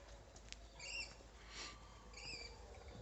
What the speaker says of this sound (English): Now you can already hear the birds.